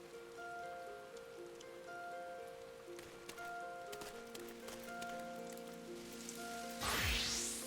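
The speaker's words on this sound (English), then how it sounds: "I didn't realize that it's actually raining in Ulda" Rain patters in the desert city of Ul'dah in Final Fantasy XIV, a soft, steady hiss of falling drops under quiet sustained musical tones, ending in a sudden swooshing burst of game effect.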